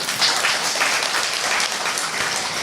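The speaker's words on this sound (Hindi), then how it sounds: "जो यहीं से कर देंगे उनके लिए तालियां बजा दीजिए।" Audience clapping during a Brahma Kumaris yoga talk at Pandav Bhawan, Madhuban: a loud, even wash of many hands applauding together for nearly three seconds, with no talk over it.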